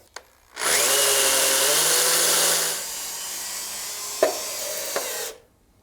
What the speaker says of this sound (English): We're drilling into a concrete slab, so we're going to use a hammer drill